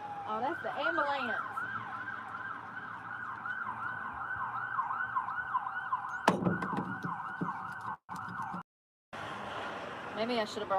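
An ambulance siren yelps in rapid repeating warbles, loud and close, running continuously before cutting off, followed by a brief thump and quiet.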